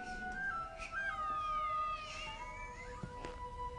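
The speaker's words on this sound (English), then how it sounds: "Oh, it's just some cats." Cats screeching and yowling, several drawn-out, wavering cries that rise and fall and overlap over about four seconds, set against a quiet background with no speech.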